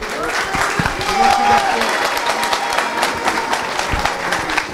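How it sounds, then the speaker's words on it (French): An audience claps for a guest teacher, a dense, moderately loud applause with some murmuring voices and shuffling mixed in, sustained throughout. "On peut applaudir."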